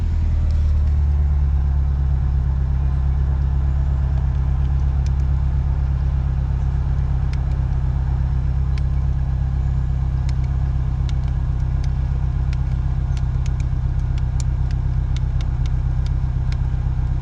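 A Mitsubishi Eclipse second-generation car engine idles with a steady, loud low rumble that stays constant throughout, alone with no talking.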